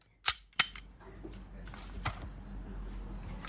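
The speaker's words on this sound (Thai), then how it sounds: "ทั้งหมด10นัดยิงได้ราบลื่นนะครับ" Two sharp cracks from a BLOW C75 CZ blank-firing pistol, fired close together near the start, followed by a fainter third pop and a low, steady background rumble.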